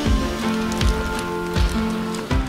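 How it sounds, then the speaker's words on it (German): Rain falls steadily outdoors on a wet, rocky river crossing, a dense close patter with a few heavier drops and splashes landing nearby. "Ihr seht, es regnet."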